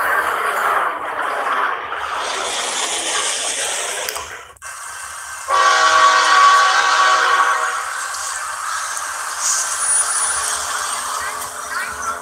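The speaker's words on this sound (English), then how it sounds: "Those are military trains with military vehicles on the trains." Military trains carrying military vehicles rumble past loudly and steadily, a drawn-out horn sounding partway through, with broadband rolling noise continuing throughout.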